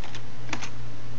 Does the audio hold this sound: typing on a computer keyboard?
yes